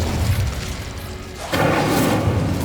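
Incendio fire spell impact in Hogwarts Legacy, a booming whoosh of flame that builds and bursts loudly about halfway through, close and full.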